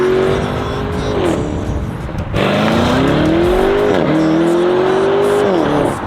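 A Lamborghini Urus engine revs and pulls away, its tone rising and falling through gear changes as the SUV drives. The engine is loud and steady and fills the whole stretch.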